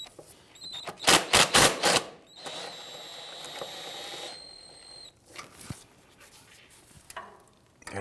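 A ratchet wrench on a 15mm socket and extension loosens the starter bolt of a 1999-2004 Jeep Grand Cherokee, with a quick run of loud ratcheting clicks, then a steady mechanical whir and scattered tool clatter.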